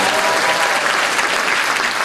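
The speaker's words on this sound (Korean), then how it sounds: "박수 한 번만 더 쳐주세요" A concert audience breaks into steady, dense applause, a continuous close wash of clapping from a large crowd with no speech over it.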